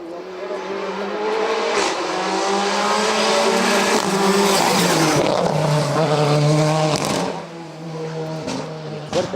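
A rally car tears past at speed on a closed stage of the 2023 Rally A Coruña, its engine note rising and falling through gear changes with tire noise, loud and close before fading away.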